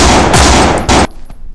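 Rapid machine-gun fire from the zombie survival game No More Room In Hell rattles loud and close for about a second, breaks briefly, bursts once more, then cuts to quiet faint echoes.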